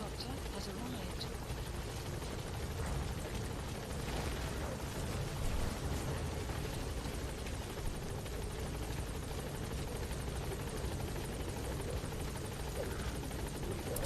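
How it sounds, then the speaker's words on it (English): Support helicopter arriving in Metal Gear Solid V: The Phantom Pain, its rotor a steady, loud, continuous thrum and roar filling the whole stretch, with a voice talking over it. "Support helicopter has arrived."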